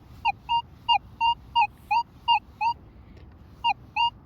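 A Manticore metal detector gives a series of about eleven short, clear electronic target beeps in an even rhythm, each a pure tone with faint harmonics, with a gap before the final two, over a low hum of background noise.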